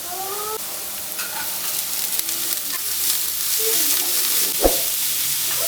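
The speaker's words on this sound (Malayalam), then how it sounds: "ഇനി നമുക്കിതിലേക്ക് അരിഞ്ഞു വെച്ചിട്ടുള്ള കുഞ്ഞതായിട്ട് അരിഞ്ഞിട്ടുള്ള ക്യാരറ്റ് നമുക്ക് ആഡ് ചെയ്ത് കൊടുക്കാം." Finely chopped carrots stir-frying in oil with mustard seeds, a close steady sizzle with scraping stirs and a sharp knock near the end, with faint tonal background sounds.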